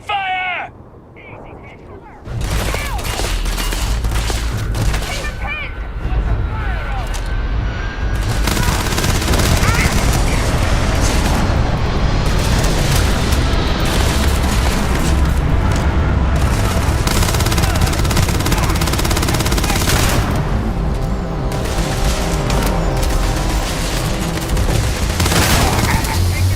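Sustained gunfire from a Starfield firefight, loud and dense with rapid automatic bursts and booms running almost continuously after a brief quieter opening, with voices shouting beneath the shooting.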